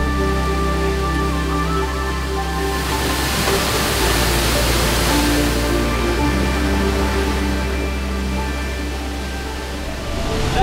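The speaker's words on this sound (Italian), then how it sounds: "siamo sulle pietre dove cade ancora l'acqua della cascata" Water from a waterfall in El Salvador crashes onto rocks in a steady, loud, unbroken rush, heard up close with no talk.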